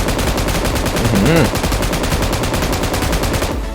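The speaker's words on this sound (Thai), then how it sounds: "ก็จะเป็นปืนกลเหมือนกับบักกี้เลยนะครับ" A machine gun mounted on a pickup truck fires in PUBG Mobile Payload mode, a loud, rapid, unbroken burst of evenly spaced shots that continues for several seconds and then cuts off abruptly.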